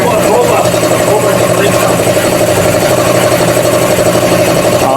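A Hyundai Tucson CRDi diesel engine idles loudly at close range with a steady, even rumble and clatter. It is heard in a workshop during a maintenance check-up.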